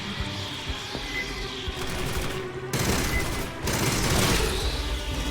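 Rapid automatic gunfire in the sci-fi shooter Aliens: Fireteam Elite, a loud, dense fusillade of shots in sustained bursts with brief pauses between, close and dominant with no talk over it.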